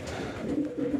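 A homing pigeon coos while held in a hand, giving a soft, low, throaty burbling that rolls on steadily and close up, with no talking.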